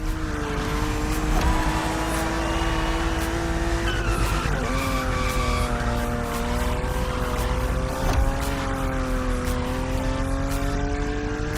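A BMW Z4 E89 coupe cabriolet in the racing game The Crew Motorfest drives hard, its engine droning loud and steady with pitch rising and falling through gear changes, plus tire squeal.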